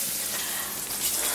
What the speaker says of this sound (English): I'll be back when we're done frying all the meat